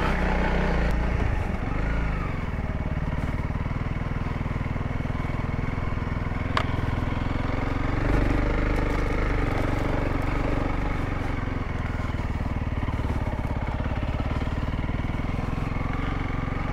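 A 2022 Honda CRF300L or 2023 Kawasaki KLX300 dirt bike labors steadily up an off-road trail at low revs, a loud continuous growl close to the microphone throughout.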